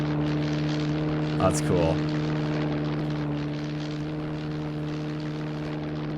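A WWII-era propeller aircraft in the submarine game UBOAT drones overhead with a steady, tonal engine hum that eases slightly toward the end, while someone briefly speaks over it near the start.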